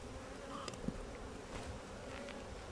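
Honeybees buzz in a steady, fairly faint drone during a beehive inspection, with a few louder passes of individual bees close by.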